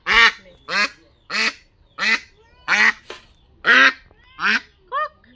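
A duck awaiting slaughter lets out eight loud, close, nasal quacks in a steady rhythm, each call short and separated by brief silences.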